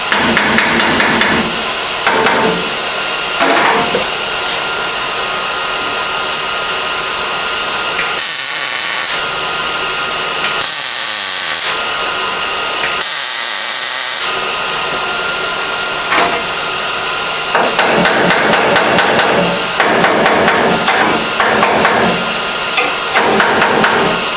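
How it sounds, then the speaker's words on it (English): A hammer taps sheet metal on the roof of a Ford Model A hot rod shop truck, a long run of rapid, loud metallic blows with brief pauses and ringing gaps between bursts. "I'll just tap it tight in between."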